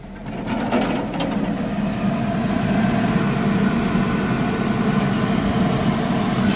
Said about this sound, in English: So it's time to fire up the blower and the shaker table.